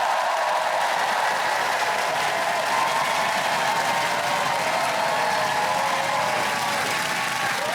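An audience at a comedy show applauds and cheers for a comedian taking the stage, a dense steady wash of clapping that stays loud and unbroken throughout.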